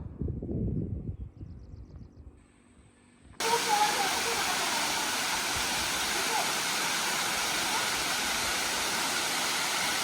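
Navankond waterfall at Talavade, Devgad roars loudly and steadily close by, a constant broadband rush that starts abruptly after a few seconds of talk and quieter outdoor sound.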